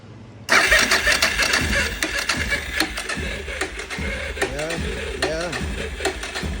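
Suzuki DR 650 motorcycle engine cranking on full choke with a slow spark, turning over in a steady churning rhythm without catching, close and fairly loud throughout.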